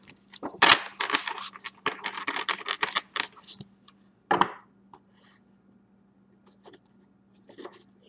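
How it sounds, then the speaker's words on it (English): Tarot cards shuffled by hand, a quick run of crisp riffling and slapping bursts, then a single sharp shuffle and a few faint card taps, close and dry with no talking. "Here's your shuffle for sublimation."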